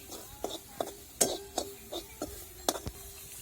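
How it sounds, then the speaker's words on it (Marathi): Bhokar vegetable being stir-fried with salt in a pan, with a spoon or spatula tapping and scraping the metal in irregular, separate clicks over a faint sizzle. "मी थोडस नॉर्मल मीठ टाकणार आहे आणि त्याला दोन मिनटं परतून घेणार आहे"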